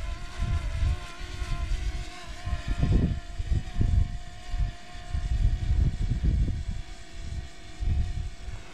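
A DJI Mini 2 drone climbs straight upward in Rocket mode outdoors, its steady motor whine and propeller hum mixed with fluctuating low wind rumble.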